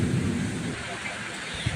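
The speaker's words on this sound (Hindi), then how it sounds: "बाहर अत्यंत घनघोर बारिश होने की वजह से, बादल गरजने की वजह से" Heavy rain pours outside while thunder rolls, a deep loud rumble that peaks early and fades under the constant dense roar of the downpour.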